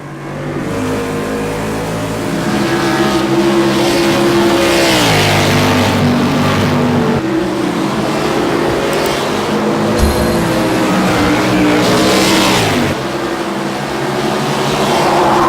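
A powerful V8 race car engine in a custom Ford Fusion NASCAR race in Project CARS 2 roars and revs continuously, pitch climbing and dropping through gear shifts, loud and close throughout.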